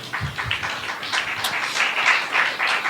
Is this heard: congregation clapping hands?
yes